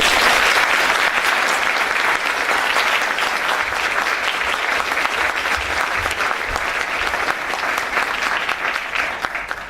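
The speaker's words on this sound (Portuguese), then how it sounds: "Uma salva de palmas, por favor." Sustained, dense applause from a large conference keynote audience, loud and steady for about ten seconds with a faint murmur of voices underneath.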